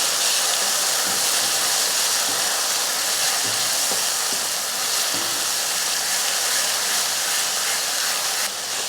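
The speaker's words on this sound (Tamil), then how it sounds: "இப்போ மசால் போட்டு ஒரு 2 நிமிஷத்துக்கு இந்த எண்ணெயில் வதக்கி விட்டுக்கலாம்" Steady, dense sizzling hiss of masala sautéing in hot oil, continuous and fairly loud throughout with no voices.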